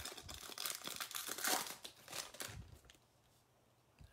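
Foil packs of Topps baseball trading cards being ripped open, close crinkling and tearing in quick bursts for about three seconds, then a quieter pause with a faint rustle at the end.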